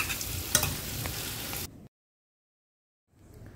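Small potatoes with turmeric frying in a little oil, a dense, close sizzle with stirring for under two seconds that cuts to silence before faint sizzling returns.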